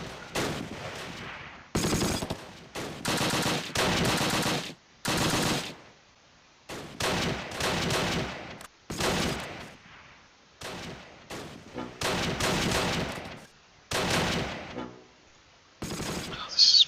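Machine gun fire in the wartime strategy game Close Combat: Last Stand Arnhem, heard as repeated loud rattling bursts of one to two seconds separated by short pauses, with a brief voice near the end.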